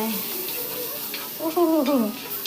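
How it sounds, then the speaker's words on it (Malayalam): Onions and tomatoes sautéing for a chicken curry, giving a soft, steady sizzle with a spoon stirring and scraping against the pan, quiet and close. "നന്നായിട്ട് വഴറ്റുവാണ്"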